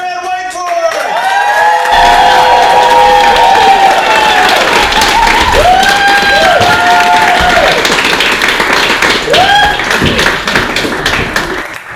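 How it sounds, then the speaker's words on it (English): Loud applause and cheering from a comedy showcase audience welcoming a comedian to the stage, dense clapping with whoops and shouted calls rising over it, swelling quickly and staying strong before tapering slightly. "You're clapping now."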